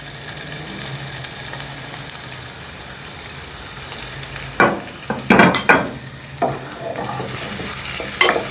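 Onion, garlic and ginger sizzling in ghee in a pan, a steady close fry followed by a cluster of sharp scraping stirs in the second half, with no voices.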